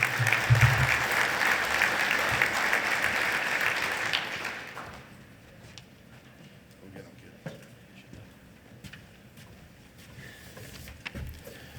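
An audience at a grain farmers of Ontario event applauds to welcome MP John Barlow, a dense clapping that fades out after about four seconds into a quiet room.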